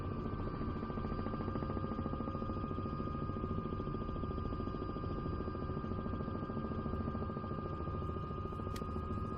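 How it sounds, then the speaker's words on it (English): A helicopter's rotor and engine thrum steadily and continuously at moderate volume, a droning whine with no speech, in Microsoft Flight Simulator 2024. "Good helicopter noises."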